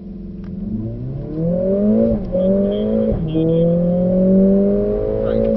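A Mercedes-AMG 45 S on a test track at Mercedes-Benz World revs hard through rising gear shifts, the engine note climbing and dropping between changes, loud and close.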